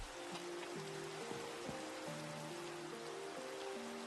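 Faint, steady rain falls in a game world as a soft, even hiss, heard beneath gentle sustained synth tones with no voices.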